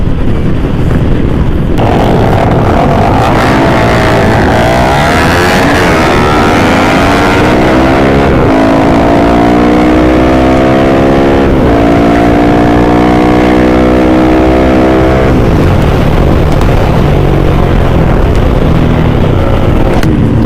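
Racing motorcycles with 300cc engines on a street-racing track, loud close engine roar with rising and falling revs and gear changes that sustain throughout.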